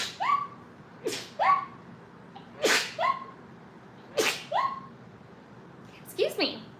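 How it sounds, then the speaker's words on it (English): A person sneezes repeatedly, with five or six sharp, close bursts spaced about a second apart, each with a quick breathy intake. "I am gonna sneeze."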